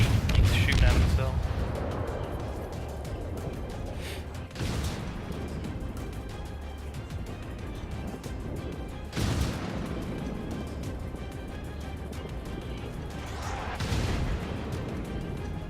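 Naval gunfire in World of Warships: distant, booming shell salvos land at irregular intervals, a handful of heavy thuds under steady engine and sea ambience while someone talks over it.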